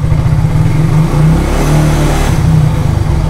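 Motorcycle engine revving hard during a voltage regulator test on a fullwave electrical system: a loud, close, steady mechanical roar throughout, with no talk.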